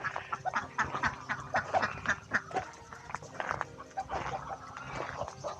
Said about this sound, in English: Beautiful colors on these ducks.